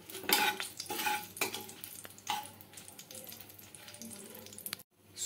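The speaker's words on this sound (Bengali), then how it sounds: "শুকনো লঙ্কা দিয়ে আমি একটু নেড়ে নিচ্ছি।" Dried red chilies stirred in hot oil and ghee in a pan: a soft background sizzle with sharp scrapes and clinks of a spatula or spoon against the metal, a few distinct strokes, then a brief pause.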